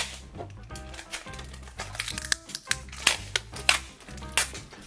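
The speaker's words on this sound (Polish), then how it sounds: "Ubijamy sobie wszystkie te kliszówki." Repeated sharp tapping and crunching knocks of plastic film canisters being pressed down with a makeshift taped plunger, irregular and close, over a low steady background hum.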